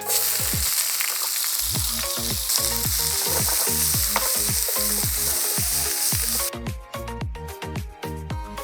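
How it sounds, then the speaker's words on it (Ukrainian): Onion frying in lard makes a loud, steady sizzle with stirring. Music plays faintly underneath, and there is no talking. "Трішки смальцю. Обсмажуємо цибульку."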